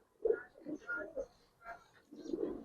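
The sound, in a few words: Giribaz pigeons cooing in a loft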